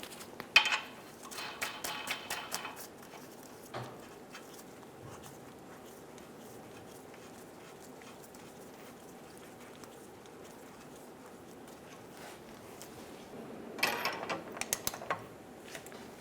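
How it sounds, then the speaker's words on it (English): Lug nuts being threaded by hand onto a Buick Enclave wheel hub, giving quick metallic ratcheting clicks at the start, a quiet stretch, then another burst of clicking near the end. "Install 2 lug nuts."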